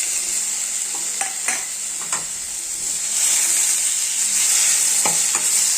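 Mutton and onion fry in a pan with a steady, close sizzle, broken by several clinks and scrapes of a stirring utensil, the frying growing louder toward the end; no one speaks.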